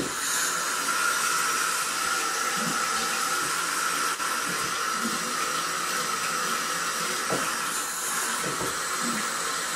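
Warm water runs steadily from a tap into a sink while being brought to temperature for C-41 film developing, a continuous close broadband rush and hiss with no talking.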